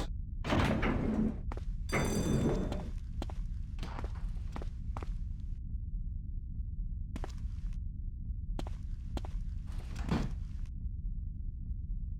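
A sliding door whooshes open in the police training level of the video game Die Hard: Vendetta, followed by scattered footsteps and light knocks over a low, steady hum.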